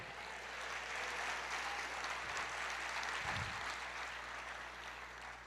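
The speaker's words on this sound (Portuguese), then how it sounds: "E aplauda o Senhor." A church congregation applauding during a Portuguese-language worship service, a steady, even wash of clapping from a crowd held at a constant level for several seconds, with a low hum beneath it.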